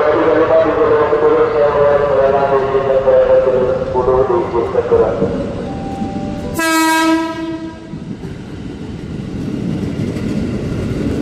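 A KRL commuter train bound for Bekasi rolls through a station with a loud, steady rumble and rattle of cars. A long, blaring horn comes partway through, and the train noise continues after it.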